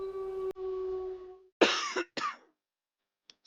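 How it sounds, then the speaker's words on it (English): A steady tone fades out, then two sharp, harsh coughs sound close by, followed by quiet. "Excuse my cough, guys."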